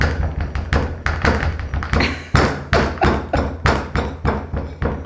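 Repeated tapping on a glass jar holding layered chocolate cake baking mix: sharp, close knocks and thuds, about three or four per second, falling in uneven bursts.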